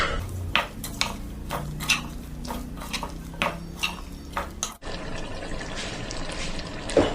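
A spoon stirs garlic and olives coated in blended spices in a pan for olive pickle, giving repeated scraping and clinking strokes up close, then a wetter, busier mixing texture toward the end.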